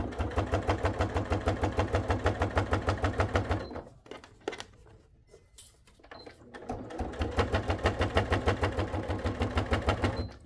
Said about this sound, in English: I've sewn on one side and I'm going to sew on the other, about 1/4 of an inch. It will be noisy